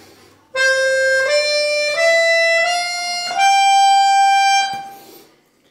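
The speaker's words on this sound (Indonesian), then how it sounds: "Pianica ini hanya akan berbunyi jika kita meniupnya dan menekan tutsnya." Pianica blown and played as a reedy, harmonically rich tone that rises through four sustained notes in a steady stepwise line, close and loud with no talking.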